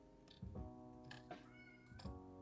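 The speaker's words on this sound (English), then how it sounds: "my middle cat Jafar is yelling at me to come say hello" A pet cat meows insistently, a few drawn-out, rising and falling calls close by, quiet and without talk.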